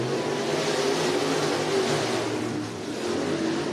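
Race cars at Cottage Grove Speedway in Oregon accelerate together on a restart, a loud, close, continuous engine roar with rising revs and no talk over it.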